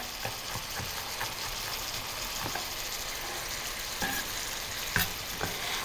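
Food sizzles quietly in a pan while ragu noodles are cooked, a steady low frying hiss broken by occasional light scrapes and clicks from stirring.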